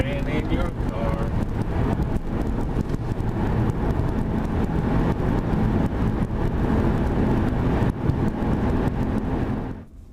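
A car's engine and road noise rumble steadily from inside as it drives along, with wind buffeting the microphone and voices talking now and then, before the sound drops away at the end.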